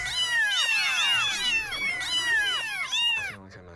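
A litter of kittens meows continuously, many overlapping high, close cries forming a dense, insistent chorus that trails off at the end.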